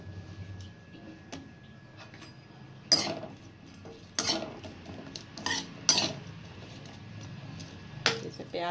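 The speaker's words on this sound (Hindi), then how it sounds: "प्याज को आप थोड़ा सा हल्का ब्राउन होने दीजिए पहले।" Onions being stirred in a pan for a paneer curry, with a metal spoon clinking and scraping against the pan in sparse, sharp knocks over a low, steady background hiss.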